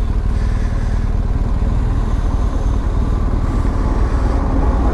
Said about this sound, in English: Let's turn the bike off.